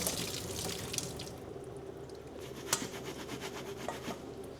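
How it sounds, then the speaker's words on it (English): Hot water pours from a pot of boiled potatoes through a strainer into a sink, a steady running splash with scattered drips and a few sharper taps of metal. "then you want to take it off and you want to strain the potatoes."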